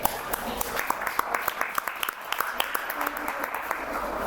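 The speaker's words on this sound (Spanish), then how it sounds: "el último aplauso a los escritores" A room full of people applauds the writers at the close of a community gathering, steady dense clapping holding for several seconds with a faint murmur beneath.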